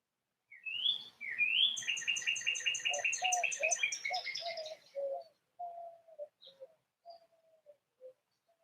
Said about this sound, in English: Listen to the birds for a moment.